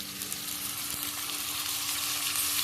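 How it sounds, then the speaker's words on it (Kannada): Tomatoes fry in a pan for a Mangalore-style chicken sukka, giving a dense, even sizzle that holds steady and close throughout with a faint underlying hum and no talking. "ಟೊಮೆಟೊ ಚೆನ್ನಾಗಿ ಫ್ರೈ ಆಗಬೇಕು. ಚೆನ್ನಾಗಿ ಫ್ರೈ ಆಗಲಿ ಟೊಮೆಟೊ."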